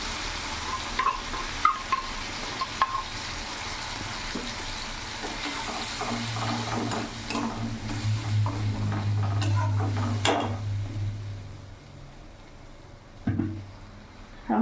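Spice mix tipped into softened tomatoes frying in a pan for a Bengali rohu fish curry, steady close sizzling with stirring scrapes and a few clinks of utensils, no talking.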